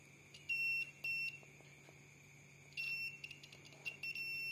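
A buzzer used to test car electric mirror wiring sounds in several short, shrill, high-pitched beeps of uneven length, separated by quiet gaps, fairly faint against a low background hum.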